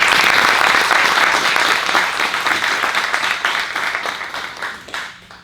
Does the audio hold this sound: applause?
yes